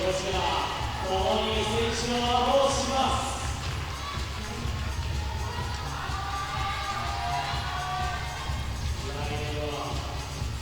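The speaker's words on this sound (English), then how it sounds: "Crowd beginning to cheer as well." Spectators cheer at an IFSC World Cup lead climbing semi-final in Inzai, Japan, a broad crowd roar that swells early and then holds steady under continuous commentator talk.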